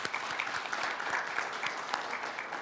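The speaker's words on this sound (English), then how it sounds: "Let's applaud each other." A conference audience of media and civil society attendees breaks into brief applause, a short burst of many hands clapping lasting under three seconds.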